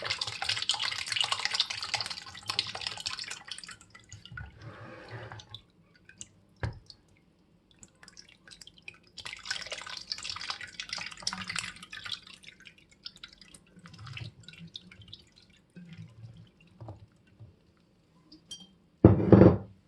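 Homemade hawthorn vinegar being strained, with liquid dripping and trickling into a container in irregular bursts, close and moderately loud, punctuated by occasional clinks of glass or utensils.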